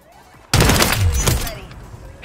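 A single loud sniper shot cracks out in a video game, going off abruptly after a quiet lead-in and trailing into a longer fading echo and rumble, with no talking over it.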